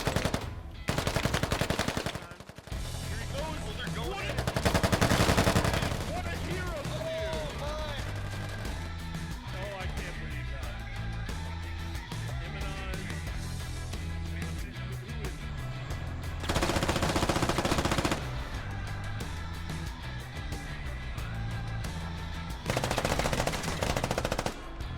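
Automatic and rifle gunfire in the tactical shooter game Squad during a bunker fight, with sustained bursts of machine-gun fire throughout and louder, denser volleys at several points, mixed with voices calling out over the shooting.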